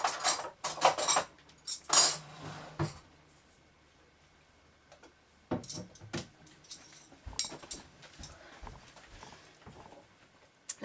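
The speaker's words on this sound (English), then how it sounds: "You take one of your teaspoons and you scoop up a little bit onto it." Metal teaspoons tap and clink against each other and a baking pan while shortbread dough is scooped out. Sharp close clicks come in clusters with quiet gaps between them, and there is no talking.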